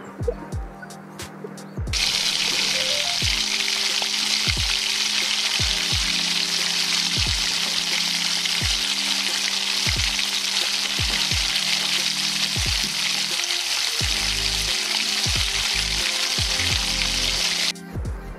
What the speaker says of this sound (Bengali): দেখুন এইভাবে ডিপ করে এক এক করে ভাজতে থাকবেন।